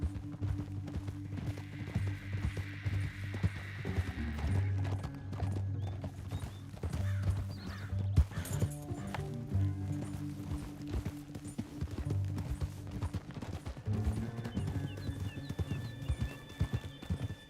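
Horses gallop in the video game Red Dead Redemption, with rapid, continuous hoofbeat clip-clops and an occasional whinny under a steady musical score.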